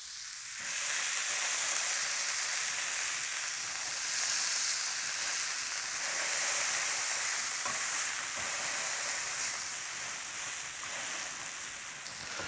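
Slider patties sizzle and fry in a pan with a dense, steady crackle that holds loud and close throughout with no talking.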